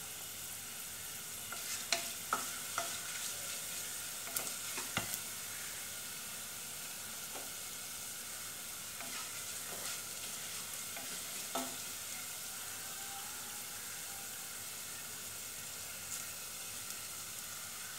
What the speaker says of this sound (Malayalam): ഇവിടെ ഉള്ളി മൂത്ത് വരുന്നുണ്ട്